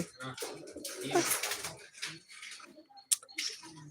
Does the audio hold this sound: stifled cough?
no